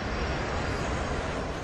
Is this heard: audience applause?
no